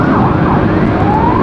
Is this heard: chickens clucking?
no